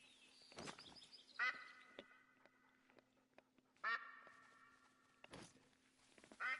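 Ducks quacking near water in The Hunter: Call of the Wild on the Vurhonga Savannah map, a few short clear quack calls at moderate distance over a quiet ambient hum, with soft footsteps.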